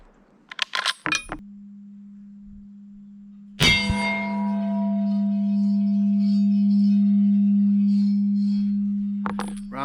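A .30-06 rifle bullet, fired from a 1943 Remington 03-A3 National Match clone, strikes a round steel gong. Each hit gives a sharp metallic clang that rings on as a long, sustained tone, with brief distant clanks before and after.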